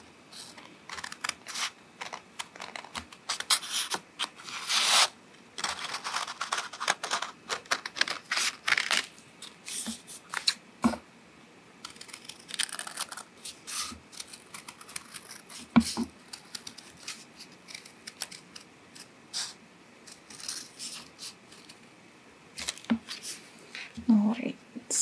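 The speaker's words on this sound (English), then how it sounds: "I'm going to cut the 2 layers at the same time" Scissors cut through two layers of craft paper at once, green on one side and purple on the other, a fast irregular run of close crisp snips and rustles continuing throughout.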